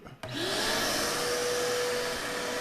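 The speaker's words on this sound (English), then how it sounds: "Let me turn my vacuum on." A shop vacuum starts with a sharp click and whirs up into a steady, loud roar, running alone and unbroken during powder coating.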